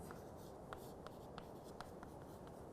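Pen or marker writing during a lecture on ternary phase equilibria, heard as a series of faint, irregular scratchy strokes over a steady background hiss, with no speech.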